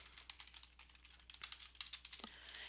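Quiet, close keystrokes tapping on a computer keyboard in a steady, slightly uneven rhythm, with no one talking.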